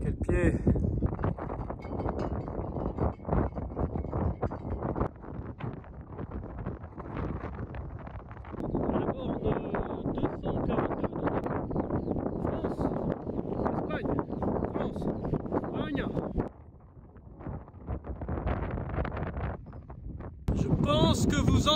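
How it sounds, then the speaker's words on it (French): Strong wind buffets the microphone on a foggy, steep mountain ridge in the Pyrenees, roaring in loud gusts almost continuously, dipping briefly before surging again. "Je pense que vous entendez le vent!"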